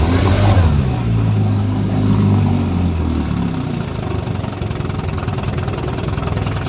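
A 1957 Evinrude Fastwin Electric 18hp outboard motor runs on a pond, its engine note dropping from a brief rev to a steady, close, burbling idle.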